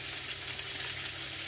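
Onion, tomato and garlic fry in a pan for a chile guajillo red-sauce chicken dish, giving a steady, dense sizzle with a faint stirring clatter, close by and continuous throughout.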